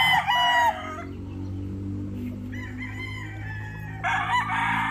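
A young late-born bulik stag rooster crows close by, two loud strained calls at the start and end with a softer one between, over a low steady background hum.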